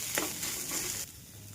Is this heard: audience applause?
no